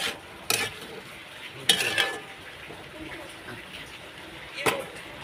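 A spoon stirs salted potatoes and fish in a pan, making three sharp scraping clatters spaced apart over a soft background hiss, close and fairly loud.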